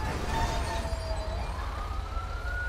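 An ambulance siren wails during a police pursuit in the video game GTA with the LSPDFR police mod. The tone slides up and down steadily over a constant low engine rumble, loud and close, with no talking.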